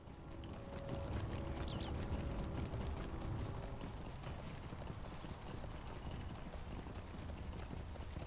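Steady clip-clop of horse hooves in a continuous trotting rhythm, under a constant wash of ambient background noise.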